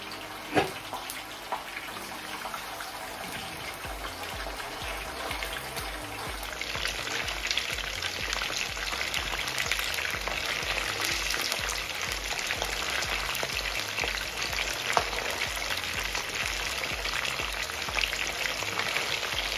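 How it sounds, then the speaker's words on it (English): Steady, dense sizzling and crackling of fish frying in hot oil, continuous and fairly loud throughout with occasional sharper pops. "So my oil is warm enough. I'm going to be frying the fish."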